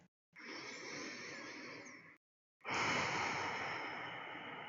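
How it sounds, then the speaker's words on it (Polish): Two long, deep breaths close to the microphone, each a slow airy rush separated by a brief silence, the second louder and fuller. "Zróbmy trzy głębokie, spokojne oddechy."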